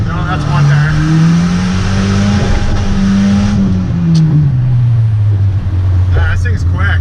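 A boosted Volvo 740 with a newly fitted boost controller accelerating hard, its engine note droning and rising steadily up close inside the car while people talk over it.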